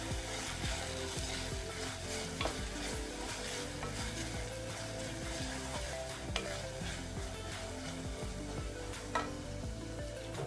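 Chicken biryani masala sizzling and frying in a cooker, with a continuous soft hiss broken by light scraping strokes of stirring, quiet and close.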